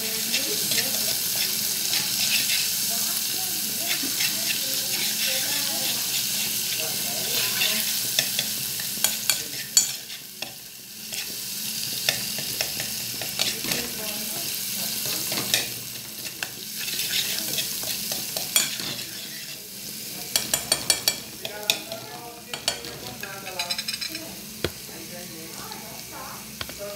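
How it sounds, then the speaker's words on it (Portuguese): Garlic frying in a pan, a steady close hiss and crackle of sizzling oil that runs throughout, broken by occasional scrapes and clicks of stirring. "Primeiro eu deixo o alho dar uma douradinha, para depois estar colocando a cebola"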